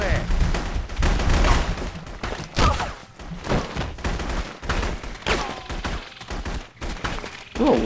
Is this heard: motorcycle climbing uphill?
no